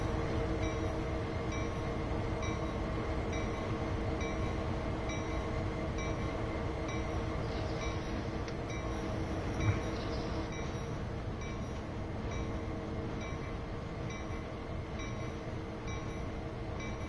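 Train running in the video game Train Sim 2, a steady continuous rumble of wheels and carriage with a constant engine drone throughout, fairly loud and even with no speech.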